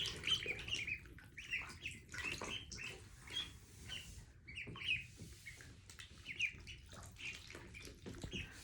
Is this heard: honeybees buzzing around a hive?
no